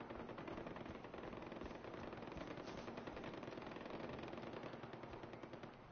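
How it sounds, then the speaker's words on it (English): Gunfire in the Far Cry 4 video game: sustained rapid automatic bursts, machine-gun style, rattle continuously for the whole stretch at a steady, fairly loud level with no talking. "I hear gunfire, I just don't see the people firing."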